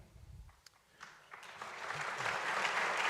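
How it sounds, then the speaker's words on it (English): Applause from an audience at a community salute event in El Paso, starting quietly and building into steady, broad clapping that grows louder toward the end. "Big applause for our moms and dads and all of our families."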